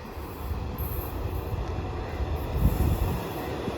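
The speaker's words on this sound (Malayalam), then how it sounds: "തിരുവനന്തപുരം സെൻട്രൽ എക്സ്പ്രസ് വരുന്നുണ്ട് കേട്ടോ" A Thiruvananthapuram Central Express hauled by a WP4 locomotive passes at Ezhimala in Kerala, a loud, steady rumble of rolling wheels and carriages that swells slightly near the end, with no voices.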